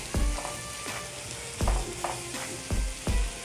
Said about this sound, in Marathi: हळदीला पण असं ना तेलामध्ये चांगलं भाजून घ्यायचं आहे